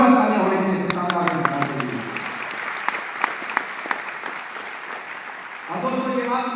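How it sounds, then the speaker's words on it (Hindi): Audience applause at a closing seminar session, fading and thinning out with scattered individual claps, while a voice speaks at the start and comes back at the end. "लेकिन जो तालियां होनी चाहिए"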